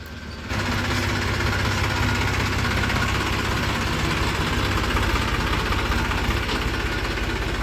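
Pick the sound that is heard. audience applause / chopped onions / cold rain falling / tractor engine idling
tractor engine idling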